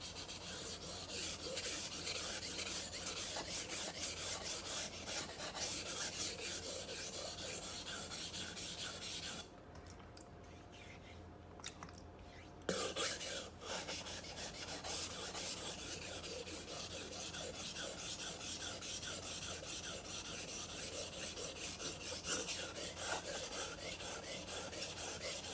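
A dull knife is drawn back and forth over a sharpening stone in a steady rasping scrape. The strokes repeat continuously and close up, with a short pause midway before the rhythmic grinding resumes.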